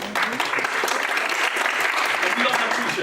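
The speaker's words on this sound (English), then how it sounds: "round of applause," Sustained audience applause fills the room at an event on Black British history, a dense even wash of many hands clapping at steady loudness for about three seconds, with faint voices mixed in.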